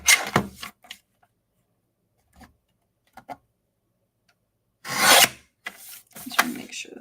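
Rasping, scraping bursts of a trimmer cutting an eighth of an inch off the side of a card, several short strokes separated by quiet pauses, then a longer, louder pass near the end.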